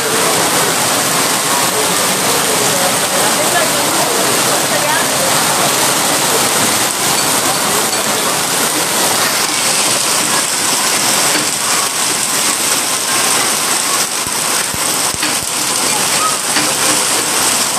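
Floodwater rushing through overflowing drains and rivers in Kurla's Sanjay Nagar, Mumbai, a loud, steady broadband roar like heavy rain or a weir that continues unbroken with no talk.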